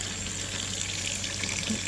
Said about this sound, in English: so just give them a good spray off here